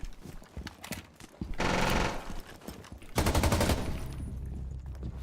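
Rapid bursts of gunfire in a competitive tactical shooter, fired through a wall, come in two loud dense volleys separated by a pause, with lighter clattering and game noise between them.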